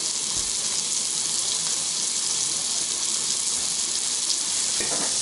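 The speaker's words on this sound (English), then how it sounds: "We're going to let that cook on one side for probably, I'd say probably 3 minutes." A chorizo and shrimp burger patty fries in a pan with a steady, loud hiss of sizzling fat that holds at an even level throughout, with no talk.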